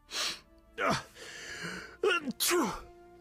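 A loud, wet sneeze in a video game, with a sharp gasping intake, followed by a couple more strained, throaty bursts, close and clear.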